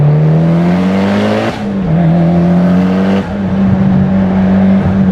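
A modified, roughly 500 whp Mitsubishi Lancer Evolution X GSR with an opened-up ETS downpipe pulls hard, its loud, close engine note climbing steadily, with two brief dips where gears change.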